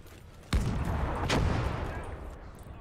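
Gunfire in a hardcore conquest military video game, with one sharp loud shot followed by a second burst about a second later, both ringing out over a steady background rumble.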